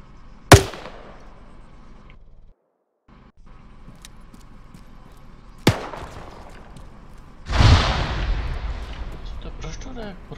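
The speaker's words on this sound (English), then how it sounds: "That was an IED." An IED blast in the military shooter Arma 3 with the RHS mod, preceded by two sharp distant bangs, then a heavy rumbling explosion that swells and rolls off over several seconds; no one talks.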